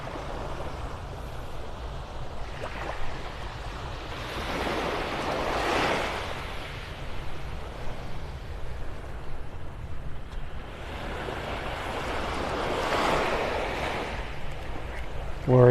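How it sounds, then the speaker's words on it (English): Ocean waves break on the shore in two big swells, each rising to a broad rushing crash and then hissing back, with a constant low surf and some wind between them. "Seems like every now and then the waves are a little bigger here"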